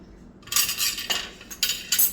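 A metal pot lifted off a stovetop burner and set down onto a hot pad while making a homemade healing balm, giving several short clinks and scrapes of metal in an otherwise quiet kitchen.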